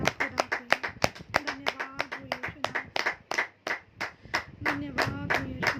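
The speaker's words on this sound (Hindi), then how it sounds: "जोरदार तालियों से तारीफ करें जिंदा खुदा की" A church congregation claps hard in praise at a worship service, sharp overlapping hand claps in an irregular rhythm, loud and close, with voices calling out briefly between the bursts.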